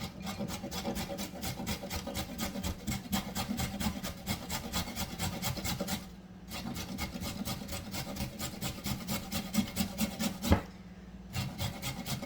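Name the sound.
carrot being grated on a large grater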